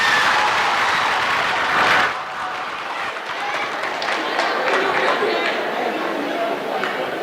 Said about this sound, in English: Yes, you can applaud for them.